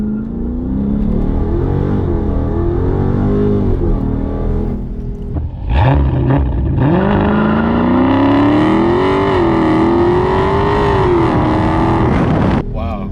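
A Dodge Daytona 392 V8 car idles at 2200 RPM on launch control, then roars off in loud, close acceleration that climbs through the gears with a rising, sustained engine note.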